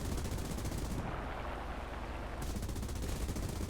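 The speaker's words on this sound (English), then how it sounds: "So he opens fire." The rear gunner of a G8N1 Renzan bomber in the War Thunder video game fires a sustained, loud machine-gun burst that rattles continuously for several seconds, with no voices.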